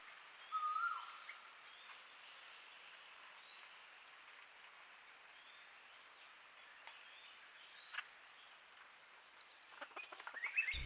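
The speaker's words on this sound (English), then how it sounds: "Another of our bulbul species, the streak-eared bulbul." A streak-eared bulbul gives a few thin, distant calls at Rocky Pool, with one clearer note near the start among quiet ambient chirps and faint rustles.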